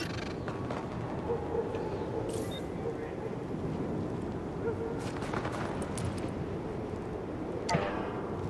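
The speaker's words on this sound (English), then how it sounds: "Weapon test initialized. Open fire at the highlighted targets." Weapon fire during a firing-range test in the video game The Division: bursts of gunshots ring out over a dense, constant background of game noise.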